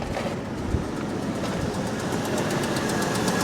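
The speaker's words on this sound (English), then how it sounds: "Engine does not sound particularly healthy." A cheap Jeep Liberty engine in poor condition idles steadily and close by, a continuous rough mechanical drone with faint rhythmic ticking throughout and no talk over it.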